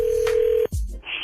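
A telephone tone for a prank call: a steady electronic tone holds, then cuts off into brief clicks and a low thump, followed by a higher electronic tone near the end, with no talking.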